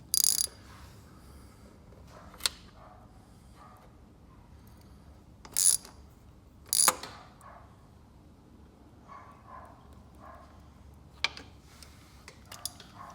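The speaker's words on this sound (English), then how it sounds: "I'm going to snug it with my ratchets." A hand ratchet snugs a drain plug into a stripped engine drain hole on a Honda Rancher ATV, giving short bursts of clicking spaced several seconds apart with faint tapping between them, in a quiet space.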